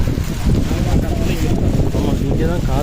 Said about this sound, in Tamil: இங்கே தான் செம்ம காத்தடிக்குது கைஸ்.